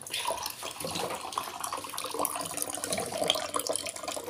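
Tap water runs and splashes steadily into a container to give a thirsty dog a drink, close by and fairly loud, with no speech.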